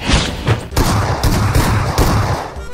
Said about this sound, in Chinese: 左边还有枪声